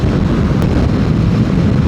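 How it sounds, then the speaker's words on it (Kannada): Heavy wind roars past a motorbike rider on a highway ride from Mysore toward Belagavi, a loud, constant buffeting rush right at the microphone. "ಸಿಕ್ಕಾಪಟ್ಟೆ ಗಾಳಿ ಇವತ್ತು, ಯಾಕೆಂದರೆ ಗಾಡಿದು ಬ್ಯಾಲೆನ್ಸೇ ಸಿಗ್ತಾಯಿಲ್ಲ."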